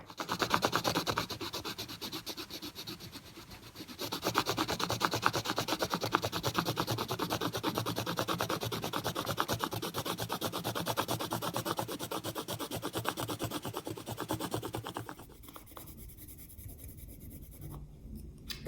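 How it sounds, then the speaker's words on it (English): A rubbing of a book cover shape is made, giving a long, continuous, close scratchy rubbing stroke that runs steadily for about fifteen seconds and then eases off, with no talking. "I'm going to try and make a rubbing."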